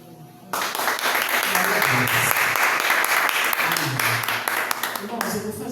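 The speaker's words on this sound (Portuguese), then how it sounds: "Eu agradeço a minha oportunidade, as palmas ao Senhor." A church congregation applauds at a Sunday evening service, a dense and steady clapping that fills the room for several seconds, with voices mixed in underneath.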